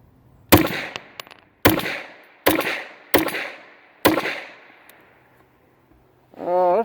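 Kel-Tec CMR-30 .22 Magnum rifle firing CCI ammunition outdoors: five sharp, loud shots spaced about a second apart, each with a brief echoing tail, followed by a short stretch of quiet.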